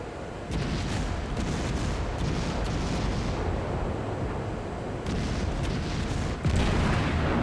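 Naval gunfire in a ship battle video game, a continuous heavy rumble of booming cannon salvos with a sharper blast near the end, loud and dense with no talk.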